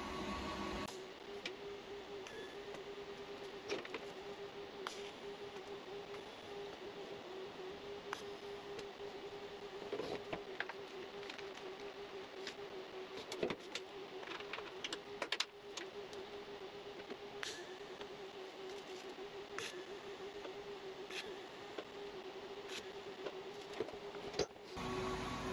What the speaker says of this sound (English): let's get into welding in this bung.